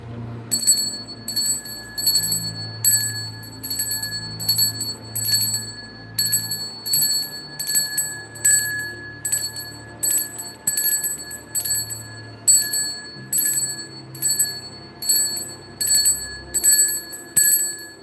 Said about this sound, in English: You can clear yourself with a bell.